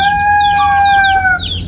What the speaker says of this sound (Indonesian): Tuh, ayam pada ribut semua ya.